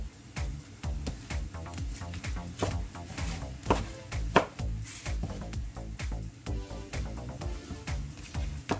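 A knife slices small shallots and sweet cipollini onions on a cutting board, a steady run of close, crisp taps and cuts with a few sharper strokes; no talking.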